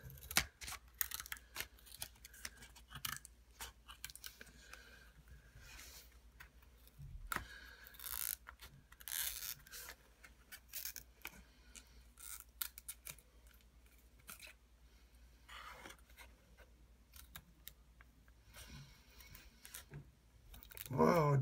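Scissors snip and crunch through stiff, hard plastic packaging of a GoPro Hero+ LCD camera in irregular bursts, close up, with crinkling and tearing between cuts and a voice speaking at times.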